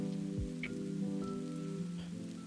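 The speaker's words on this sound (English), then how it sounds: "we should probably get a move on before the rain gets worse" Rain falls steadily as a soft, continuous patter under a low sustained hum, with a few brief louder taps standing out.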